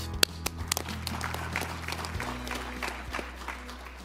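Audience applause for scholarship recipient Curtis Williams, an undergraduate at Southern University and A&M College, at a leadership kick-off session; fairly faint, steady clapping from a seated crowd over a low background hum.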